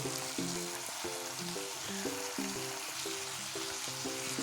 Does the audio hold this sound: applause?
no